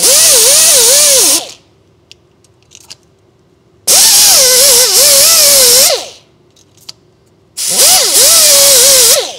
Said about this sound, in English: this tool is going to go around each of the studs and polish it and leave it nice and clean so that there's no rust remaining